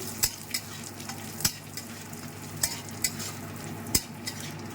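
A handful of almonds fry in ghee with a soft steady sizzle, broken by several sharp taps of a spoon against the pan.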